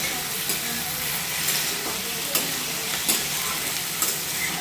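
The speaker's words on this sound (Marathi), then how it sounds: "बटाटा टाकला आता कढईमध्ये" Chopped potatoes sizzle and crackle in a hot kadai, a dense, even frying hiss with a few louder spits and pops, close up and alone with no talk.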